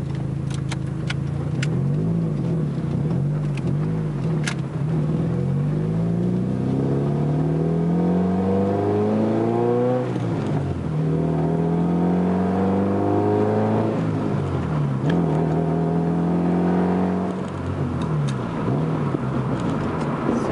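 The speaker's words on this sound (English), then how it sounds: "Now it does have a pretty rough idle on this one. You can kind of hear the exhaust." A car engine idles roughly during Osiris Uprev/Cipher data logging, its exhaust note wavering up and down in slow uneven surges, loud and close, with no voices.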